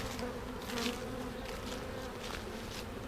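Honeybees buzzing around a hive entrance after a vertical split with a screen divider board, a dense, continuous swarm hum at close range with rising and falling swells, no talking.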